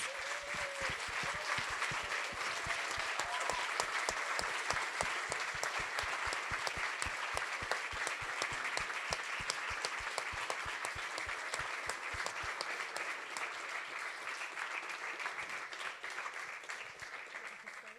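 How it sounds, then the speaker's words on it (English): An audience claps for young students at the close of a youth speaking event, sustained dense applause with distinct sharp hand claps running throughout, gradually thinning toward the end. "One more round of applause."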